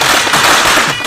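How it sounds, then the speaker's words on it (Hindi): Dense, rapid crackling of firecrackers bursting close by, loud and continuous with no pauses for the whole brief moment. "पटाखे फोड़ो।"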